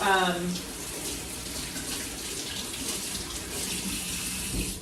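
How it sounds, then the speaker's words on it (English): Tap water runs steadily over vegetables being rinsed for meal prep, a continuous close splashing hiss with a brief voice near the start. "So I'm gonna give these a good little rinse."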